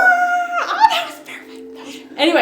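A human voice imitates a werewolf's big howl, a short, loud, wavering howl that breaks into voiced sounds and ends with a rising burst.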